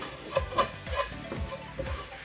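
Spice powders (garam masala, meat curry powder and chilli powder) frying in a pan for chicken and egg biryani, a soft sizzle broken by repeated rhythmic spoon scrapes and stirring strokes, close by and without talk.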